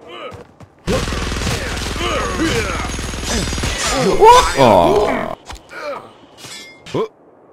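Minigun fire in the video game The Showdown Effect: a dense, sustained rattling burst of rapid gunfire lasting several seconds, joined by crashes and impacts, then tapering into scattered shorter shots and effects.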